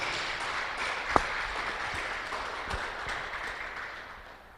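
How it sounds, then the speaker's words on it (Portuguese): A crowd applauds in a steady wash of clapping that gradually fades, with one sharp, louder clap standing out early on. "Vamos aplaudir Jesus"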